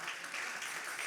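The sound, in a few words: congregation applause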